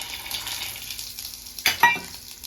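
Green chillies frying in oil for an old tamarind peel chutney, making a quiet, steady sizzle broken by a couple of sharper crackles from stirring near the end.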